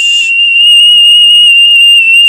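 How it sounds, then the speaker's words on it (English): A steady 3 kHz test tone from a tape on a restored 1980s Panasonic SG-J555L boombox, a loud continuous pure whistle-like pitch, holding unbroken and alone. "on a 3 kilohertz signal"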